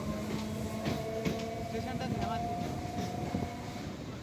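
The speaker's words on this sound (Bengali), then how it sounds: "ট্রেন এগিয়ে যাচ্ছে মূল প্ল্যাটফর্মের দিকে" A train rolls slowly along a wide, extended station platform toward the main platform, its steady low rumble and wheel tones running throughout, with voices of people nearby.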